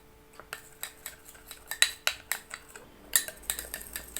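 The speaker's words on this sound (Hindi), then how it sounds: "मैंने पेस्ट को अदरक के अंदर अच्छी तरीके से मिक्स कर दिया है" A utensil stirs Colgate toothpaste into squeezed ginger in a bowl, giving rhythmic clinks and scrapes against the dish about twice a second, close and clear with no talking.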